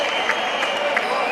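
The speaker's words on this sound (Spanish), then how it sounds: "Un aplauso para ellos también" Audience applause at a tribute gathering in Antsoain, a steady dense wash of many hands clapping that holds at an even level throughout, with a voice faintly present underneath.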